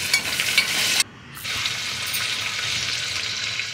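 Tomatoes and mushrooms fry with a steady, bright sizzle in a pan. A scraping stir rises near the start, breaks off briefly, then the frying carries on evenly.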